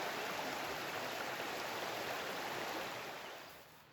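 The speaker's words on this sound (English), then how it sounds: "The creek is mighty low." A low creek on a drought-stricken farm, its water giving a steady, soft, continuous wash of flowing noise that fades slightly at the end, with no voices.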